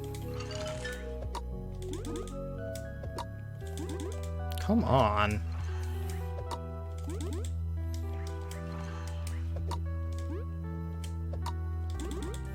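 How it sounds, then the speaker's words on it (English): Repeated mechanical clicking from Bug Fables plays over tonal game music, with a spoken voice briefly heard; the ticks are small and steady rather than loud. "That clicking sound, by the way, is the worst sound in the game."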